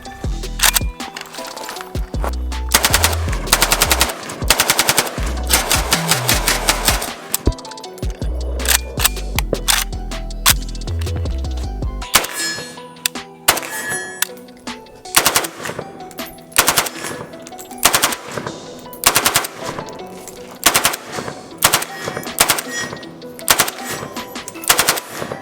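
Shortened Kalashnikov-pattern rifle in 5.45x39 fires long automatic bursts and rapid strings of loud, close shots, with brief pauses between strings.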